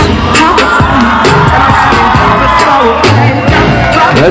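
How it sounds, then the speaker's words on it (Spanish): Loud audience cheering and whooping with crowd noise at a Miss and Mister school pageant presentation, sustained throughout with scattered shouts and yells close up. "Ya escuchamos los aplausos."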